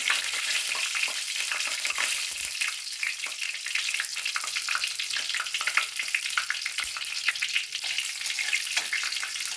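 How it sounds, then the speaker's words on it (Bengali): Dried red chillies and bay leaves are tempered in hot oil for a carrot curry, producing a constant dense crackle and sizzle with quick popping spatters throughout, close and with no talking. "শুকনো লঙ্কা ফোড়ন দিলাম, তেজপাতা ফোড়ন দিলাম"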